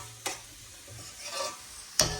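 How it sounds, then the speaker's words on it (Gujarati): A spoon stirs green chilli paste and potatoes frying in a pan, with a soft sizzle underneath and a couple of sharp scrapes against the pan, close and clear, with no talking. "અને પછી લીલા મરચાંની પેસ્ટ નાખીશ અને બટેકા."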